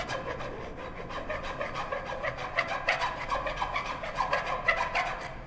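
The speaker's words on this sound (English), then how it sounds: "So use the half round side of the rasp," A half-round rasp files the inside of a tapered wooden mortise for a spindle stool, producing rhythmic rasping strokes, close and moderately loud, with no talking.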